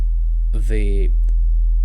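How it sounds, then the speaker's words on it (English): A synthesized tone run through a saturator plugin in Ableton for a drum and bass track, heard as a short, bright, harmonically rich buzzing burst of about half a second over a steady low hum. "watch what's gonna happen when I'm gonna distort it using a saturator plugin in Ableton"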